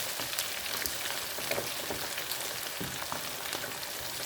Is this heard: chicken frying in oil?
yes